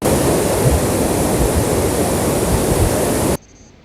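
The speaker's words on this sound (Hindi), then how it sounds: "झरना है, उसका भी वेग काफ़ी ज़्यादा हो चुका है" A rushing waterfall at Govindghat pours in a loud, dense, broadband roar that holds steady at close range, then cuts off abruptly near the end.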